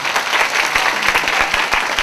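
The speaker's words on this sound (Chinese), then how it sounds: "我们给他掌声一下好不好？" Audience applause at a 2007 film and television award ceremony, a dense steady clapping from a large crowd filling the whole stretch, close and loud with no talk over it.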